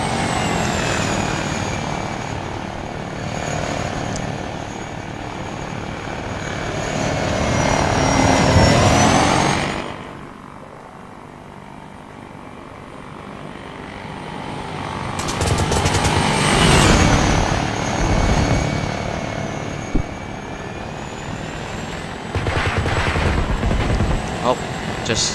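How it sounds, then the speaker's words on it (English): An Apache helicopter in the Arma 3 video game circles around a convoy, its rotor and engine roaring loudly, then dropping away and swelling back as it passes, with a voice speaking over parts of it. "The Apache's gonna circle back around."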